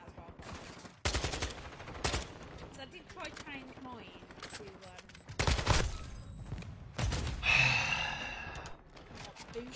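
Shotgun gunfire in a video game: several loud, sharp blasts spaced apart, mixed with breathy vocal sounds and some voice.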